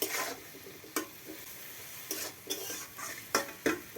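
Vegetables sizzle in a pan as a spatula stirs them, with a soft frying hiss broken by several sharp scraping strokes at an irregular rhythm, close up and with no talking.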